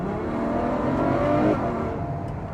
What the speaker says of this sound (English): Oh, that is a silky engine.